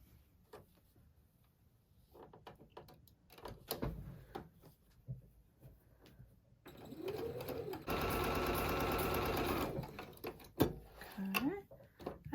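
A sewing machine sews quilt fabric in a short, close, steady whirring burst of about two seconds, surrounded by softer handling noises, fabric shuffling and a little speech.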